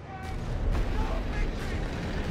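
In the Company of Heroes 3 battle for Tobruk, incoming artillery rumbles and booms in a dense, continuous barrage of deep thuds, with a voice speaking over it.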